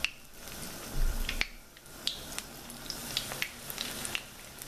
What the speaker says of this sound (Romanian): acum formez mingiuțe cu mâna și le pun în ulei